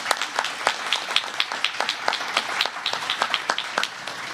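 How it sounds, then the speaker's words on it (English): Warm applause from the audience at a naturalization ceremony welcoming new citizens, steady dense clapping throughout, moderately near with no voices on top. "Give yourselves a round of applause."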